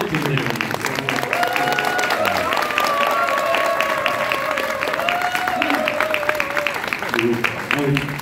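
Audience applause at a church testimony gathering, steady broadband clapping throughout, with faint sustained musical tones running beneath.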